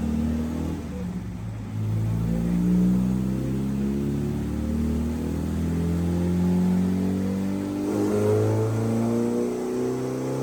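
A Honda D16 engine revs hard on a chassis dyno up toward an 8,000 rpm limit, its steady loud drone climbing in pitch through two long sustained pulls with no voices.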